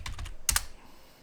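Quick burst of keystrokes on a computer keyboard while starting an Ubuntu 18.04 install inside a virtual machine, a few close clicks then a louder double tap, alone with no talk.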